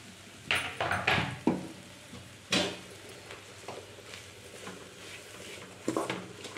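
Palya being stirred with coriander leaves in a pan, a few clattering scrapes and knocks of a utensil against metal in short bursts over a soft background hiss.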